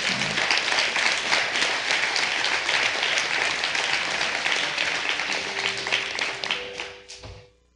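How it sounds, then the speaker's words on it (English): A church congregation claps hard together in a loud, sustained hand-clap offering that tapers off at the end as an organ tone enters beneath it. "Give the Lord a hand clap offering."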